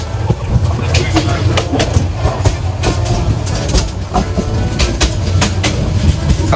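The Teesta Express passenger train runs on rails between Joydebpur and Gafargaon in Bangladesh, producing loud, close, rhythmic clickety-clack wheel beats over a heavy rumble, with a faint voice underneath.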